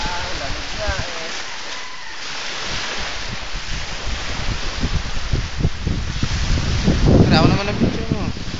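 Strong wind roars steadily across the microphone on a boat at sea, with waves and water rushing underneath and people talking over it.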